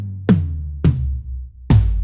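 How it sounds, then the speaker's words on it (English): Three deep, fat tom drum hits from a sampled drum library, each a heavy low thump with a long sustained boom, spaced evenly and played alone with no talking. "Just a really nice fat tom sound."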